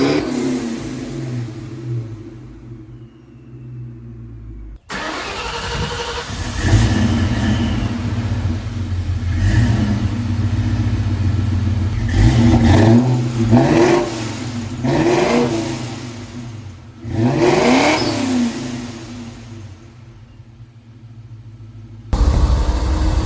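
A 1999-2004 Ford Mustang GT V8 with newly installed long tube headers cranks, fires up and settles into a loud, close idle, punctuated by several sharp throttle blips and revs.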